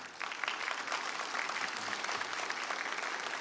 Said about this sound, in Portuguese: Palmas para as pessoas casadas.